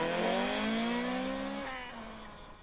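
A Porsche engine held on launch control, a steady close, loud rev that climbs slightly in pitch before dropping away, with a short sharp burst at the very end.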